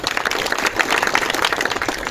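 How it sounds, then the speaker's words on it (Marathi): Loud, dense applause from a crowd at a village library inauguration in Sonyal, a steady wash of many hands clapping close by for the full couple of seconds, with no talking. "माननीय तुकारामजी वालेकर यांच्यासाठी जोरदार टाळ्या वाजवा"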